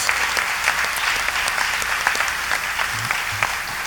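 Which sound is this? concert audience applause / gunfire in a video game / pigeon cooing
concert audience applause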